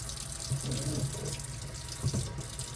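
A small splash of water poured onto a potted French tarragon plant sitting by a window: a brief, close trickling pour that swells twice over a few seconds, with no talking.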